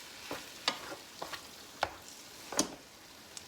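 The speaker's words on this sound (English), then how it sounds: "Kind of stir that in and get a feel for my consistency here." A spoon scrapes and knocks now and then through thick goulash with noodles in a cooking pot, giving a few soft, scattered strokes against quiet, low background.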